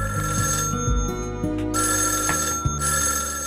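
A telephone rings in a scene from the Malayalam comedy film Pranayathil Uzhappunnathu Engane, a loud melodic ringtone that plays continuously with layered tones throughout.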